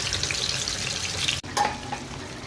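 Fish frying in mustard oil in a pan, a steady close hissing sizzle with a brief break partway through, then the crackle resumes.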